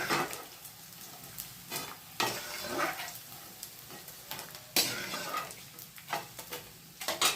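Edible gum (gund) frying in oil for sukhdi, a steady sizzle and crackle with repeated scraping and stirring clatters of a utensil in the pan, close and alone.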